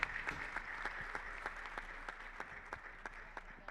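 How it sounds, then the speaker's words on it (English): Audience applause rings out for an academia category winner at a dental hygienist awards ceremony, a steady, moderately distant patter of many hands with a few sharper individual claps standing out. "For the final time, big applause in the academia category"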